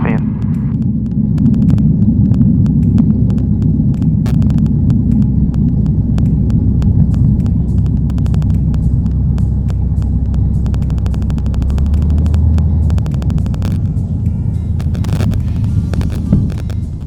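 A Piper PA28 Warrior light aircraft engine drones steadily from inside the cabin, a loud, constant low rumble with wind noise and occasional clicks.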